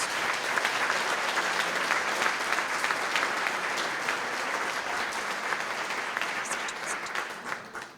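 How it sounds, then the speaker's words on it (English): A banquet audience at a chamber of commerce annual meeting and awards dinner gives sustained, even applause that fills the hall, thinning slightly at the very end. "Please join me in giving a huge round of applause to our sponsors."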